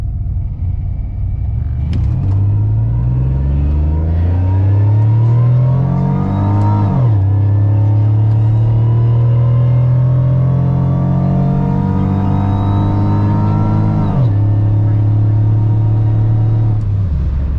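Front-wheel-drive Pontiac Grand Prix GTP with a GM 3800 V6 and 4T80E transmission swap launching down a high-altitude drag strip, engine loud and close as it climbs through a shift near two seconds and another later, pulling hard throughout.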